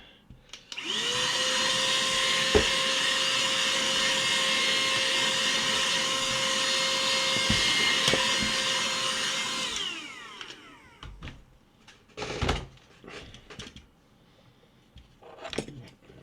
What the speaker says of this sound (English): I'm going to get the solder cleaned up again with the vacuum.